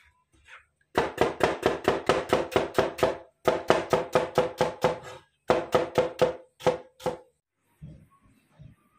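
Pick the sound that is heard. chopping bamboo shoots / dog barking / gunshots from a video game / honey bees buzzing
chopping bamboo shoots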